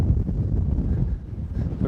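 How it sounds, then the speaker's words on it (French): Wind buffets the microphone on a golf course, a steady low rumbling gust that stays loud and close for the whole short stretch, with no talking. "Il y a un vent, laisse tomber"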